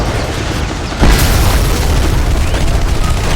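Gunfire and explosions from the video game Renegade X: a heavy boom strikes about a second in, followed by a dense, loud barrage of battle noise that continues steadily to the end.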